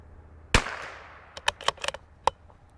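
A .22 LR CZ 457 precision rifle fitted with a Timney trigger fires one sharp, close shot, followed a second later by a few lighter cracks and pops, including one more distinct report.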